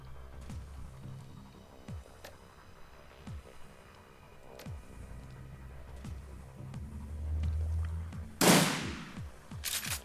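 Gunfire from Brotherhood gunners in the game Shadowrun Returns: faint, scattered shots over a low throbbing backdrop, with one sharp, louder burst near the end.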